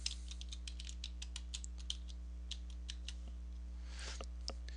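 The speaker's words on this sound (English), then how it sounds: "So I'm going to go ahead and type in my password." A password typed on a computer keyboard, a quick run of light, close key clicks over a steady low hum, quiet overall.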